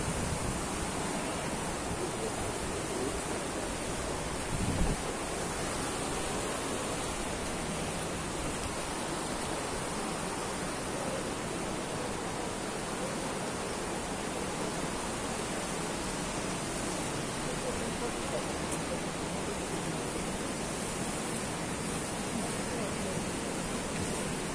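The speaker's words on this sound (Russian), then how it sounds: "Ждем медовый водопад." The Honey Waterfall in the Caucasus mountains roars in a steady, dense wash of falling water that stays constant throughout, loud and unbroken apart from a brief knock near the start.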